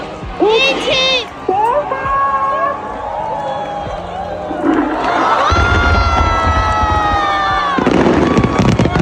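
Fireworks at a Japanese summer fireworks festival, with whistling rockets rising and booming bursts over a large outdoor crowd that cheers and shouts throughout.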